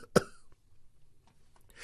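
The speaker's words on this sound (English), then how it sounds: "there's some coughing" A single sharp cough breaks into a quiet voice-over recording, brief and close, followed by near silence with faint room noise.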